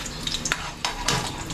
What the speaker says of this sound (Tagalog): So, yun, mainit na itong kawali. At yung mantika. Maglalagay na tayo.